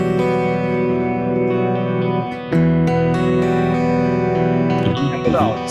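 Electric guitar played through a Kemper Profiler using a Tweed Deluxe amp profile with the cabinet simulation on: sustained, slightly driven chords ring out, with a fresh strum partway through and a quick run of notes at the end.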